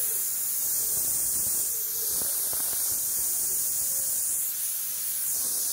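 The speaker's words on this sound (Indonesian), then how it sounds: "kita buang anginnya seperti ini sobat ya anginnya banyak ya" Compressed air hisses steadily out of a knockdown pressure regulator, a loud, continuous broadband rush that persists for several seconds with only slight dips in strength.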